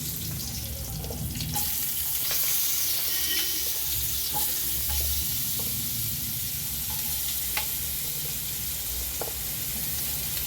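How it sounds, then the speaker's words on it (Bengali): Potatoes fry in hot oil in a home kitchen pan, giving a steady, fairly quiet sizzling hiss with occasional small pops and stirring clinks throughout. "আলুগুলো ভালো করে ভাজতে হবে, খুব লালও হবে না কিন্তু সুসিদ্ধ হবে।"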